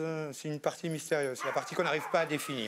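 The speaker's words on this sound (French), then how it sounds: "C'est le chien." A dog yips and whimpers in a string of short, high, repeated cries under continuous close speech.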